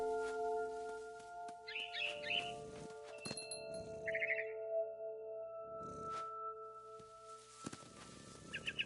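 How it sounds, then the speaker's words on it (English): A barn swallow chirps in the video game What Remains of Edith Finch, giving two brief, faint flurries of high twittering calls over a quiet ambient backdrop with soft thumps and a steady hum. "heard chirping outside my window. It was a barn swallow going back to her nest."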